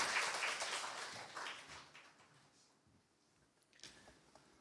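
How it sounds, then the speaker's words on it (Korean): A church congregation at a Sunday worship service applauds to welcome a guest preacher. The clapping is fairly distant and soft, strongest at the start and fading away over a few seconds, with a brief renewed patter near the end. "나오실 때에 박수로 맞이해 주시기 바랍니다."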